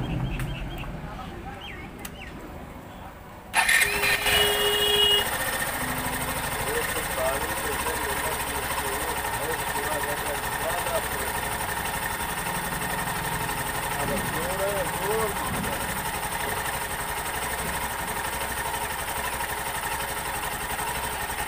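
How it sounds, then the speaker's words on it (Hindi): A Hero Passion Pro BS6 motorcycle engine idles close by in a steady, even hum. The sound rises suddenly after a few seconds as the idle RPM is adjusted, and someone talks over it. "यहाँ पे जैसा कि मैं इसे टाइट करता हूँ तो इंजन का स्पीड बढ़ने लगता है।"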